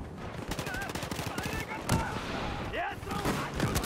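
Bursts of L85A2 rifle fire in the video game Battlefield Hardline, during a Conquest match, crackle in quick, uneven volleys alongside other battlefield shots and effects. A voice talks briefly over the action.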